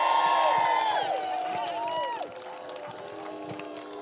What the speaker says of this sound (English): Can we have a cheer for this lady?